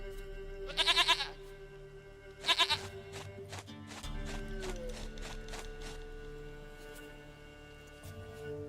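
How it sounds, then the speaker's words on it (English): A goat in The Witcher 3 video game gives two short, wavering bleats a second or so apart, then a low, sustained musical drone takes over and continues to the end. "Goat of mine, dearest, sweetest goat."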